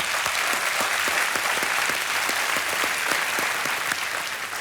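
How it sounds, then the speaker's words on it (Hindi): Dense, steady applause from a studio audience on the Hindi quiz show Kaun Banega Crorepati, a continuous wash of many hands clapping with no talk over it. "और तालियां।"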